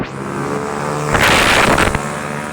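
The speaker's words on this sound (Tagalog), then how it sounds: "Nakailang daan na dito yung mga motorista na mabilis magpatakbo" Motor vehicles speed past close by on a road where drivers go fast, one loud roaring pass building and fading over a steady background of traffic noise.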